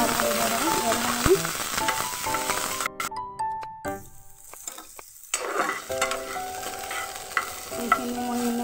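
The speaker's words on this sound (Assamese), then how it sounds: "এইখিনি মই এনেকৈ অকণমান সময় ভাজি ল'লোঁ।" Chickpeas sizzle and crackle in hot oil as they are stirred around a pan for an Assamese dish. The frying runs steadily up close, with a brief quieter dip midway, and no one speaks.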